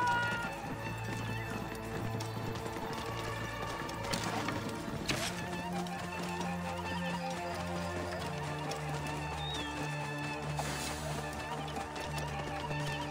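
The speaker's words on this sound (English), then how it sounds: "They stole my horse!" A horse runs in Assassin's Creed Origins, with hoofbeats moving over a busy game backdrop of music tones and ambient sound, moderately loud throughout.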